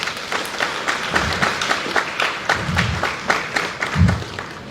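Audience clapping at a Ghanaian diplomatic conference, a loose crowd patter with several heavier thuds standing out, steady and fairly close, with no talk over it.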